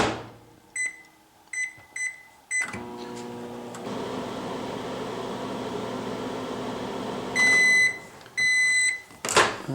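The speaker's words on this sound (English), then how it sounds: "So all you do to heat these rice pillows up is pop them in the microwave." A microwave oven hums steadily for several seconds while heating a rice pillow, bracketed by a series of short electronic beeps before and after it runs.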